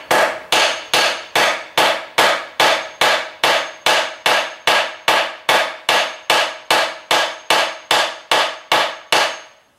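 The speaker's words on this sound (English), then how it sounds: "And then I'll gradually hammer it down." A long, unbroken run of evenly spaced hammer strikes on scrap wood, about two per second, loud and close, with no voices.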